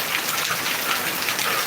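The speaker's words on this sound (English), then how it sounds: "the rain over here is more slow." Steady rain falls during the rainy season, a loud continuous hiss of drops hitting surfaces with no voices.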